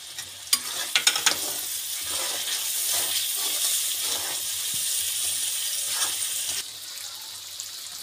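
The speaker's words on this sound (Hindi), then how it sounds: "इसमें डाल रहे लाल मिर्च।" Red chili goes into a hot pan of frying masala for aloo methi sabji, with scraping and stirring over a loud, steady sizzle; a few sharp clacks come early and the frying noise drops off near the end.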